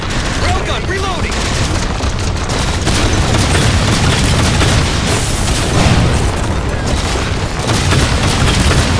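Sustained heavy weapon fire from a railgun and battle explosions in the Halo 4 video game, a dense, loud, continuous barrage of booms and bursts with no pauses.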